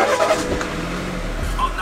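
A BMW car's engine turns over and idles, a low, moderately loud rumble inside the cabin with a few faint thumps and rustles around it.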